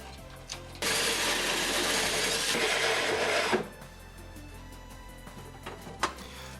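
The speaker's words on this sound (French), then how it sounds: "Plus qu'à percer dans la cloison." Drilling through a plasterboard partition wall during a ventilation duct installation in a renovation: a loud, steady whirring drill run of about three seconds, then quieter room noise with small knocks.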